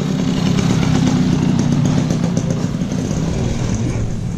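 A motorcycle passes on a street in Chiang Mai, Thailand, its engine droning loud and close throughout with a slight rise and fall, no talk over it.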